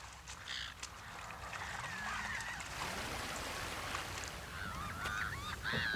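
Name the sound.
lake birds calling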